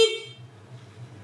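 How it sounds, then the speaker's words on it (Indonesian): The Japanese-made horn fitted to a Fiido Q1 electric bike gives one short, bright toot up close, then cuts off and leaves a low rumble. "Ini klakson"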